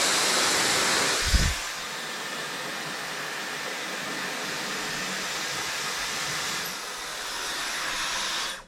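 A Dyson hair dryer runs steadily as a loud, broadband whoosh of airflow for the whole stretch, with a brief low thump early on and a slight dip and swell in intensity near the end.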